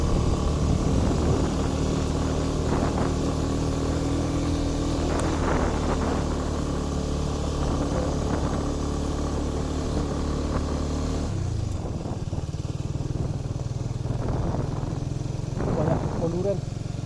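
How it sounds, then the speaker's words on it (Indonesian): A motorcycle engine labours steadily on a rough road near a dam in Bogor, droning close and continuous with uneven rises and dips in effort. "Kalau jalan sini nih motor perlu tenaga ekstra."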